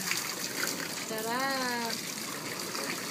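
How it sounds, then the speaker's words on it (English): Running shower water, a steady broad hiss heard close up throughout, with a voice talking briefly over it. "Shower! Shower. May shower na lang pala"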